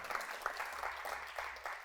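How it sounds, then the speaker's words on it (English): Audience applause for a business speaker on stage, fairly quiet, uneven clapping with scattered individual claps across the short span. "Can we have a round of applause for Rory Boyle, please?"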